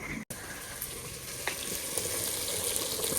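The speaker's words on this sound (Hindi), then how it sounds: "सालन को तड़का लगा रही है" Curry tempering in hot oil: steady sizzling, a continuous crackling hiss with a brief cut near the start and a few small pops.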